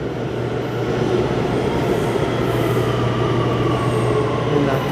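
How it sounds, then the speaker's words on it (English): A train rumbles steadily near a walkway by the Brooklyn Bridge in New York, a continuous loud roar with a low mechanical hum and no talking. "One of the trains over here."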